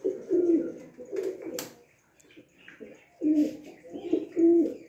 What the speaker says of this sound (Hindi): ये कबूतर देखें, छतरी वाले कबूतर।